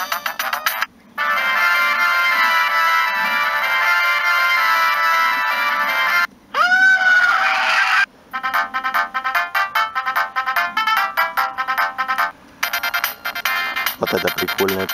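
Built-in Vodafone ringtones play loudly from a Siemens C6V mobile phone, several melodic tunes in succession separated by short gaps, with a voice speaking between some of them.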